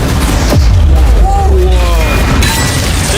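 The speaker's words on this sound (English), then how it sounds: "We kept firing cannon after cannon, ripping through Sean's defense." Cannons keep firing at a yacht, heavy booms and rumbling impacts close by, with a voice talking partly over the blasts.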